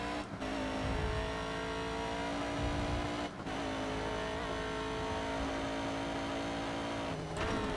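A GT Cup race car in ToCA Race Driver 3 drones steadily at high revs with brief dips between gear changes, its engine note occasionally sounding like it cuts out, loud and continuous throughout.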